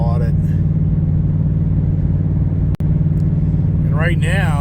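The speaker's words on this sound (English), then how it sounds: "this is in normal mode. This is not in exhaust mode. So this thing sounds pretty damn good just in regular mode." A sports car's engine and exhaust idle in normal mode, a steady loud low rumble held throughout, with a brief dropout midway and someone talking near the end.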